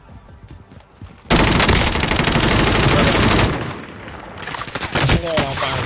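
Sustained automatic gunfire in Call of Duty Warzone, a dense, loud burst of rapid shots lasting a couple of seconds, followed by quieter scattered shots and game noise.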